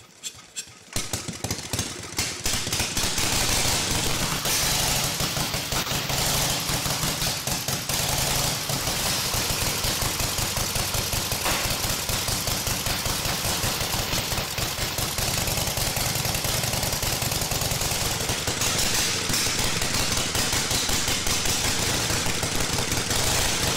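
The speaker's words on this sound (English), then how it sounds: "I'm gonna crank it up, pretty simple process, decompress the engine, give it about 2 pedals, this thing ought to roar to life." A 1914 board track racing motorcycle engine, decompressed and started by pedaling, catches after a brief sputter and then runs loud and steady with a rapid, rough, uneven firing rhythm close by, with no talk.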